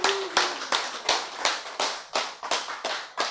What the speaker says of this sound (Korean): 박수, 그 이제 진짜 박수지